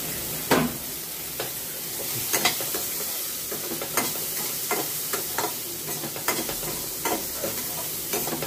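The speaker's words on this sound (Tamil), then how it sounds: "நல்லா பட்டாணி வேகிற வரைக்கும் நல்லா வதக்கி கொடுப்போம்." Peas and green chili sauté in a pan for a white jowar upma, a steady sizzle running throughout while a spoon stirs and clacks against the pan at regular intervals.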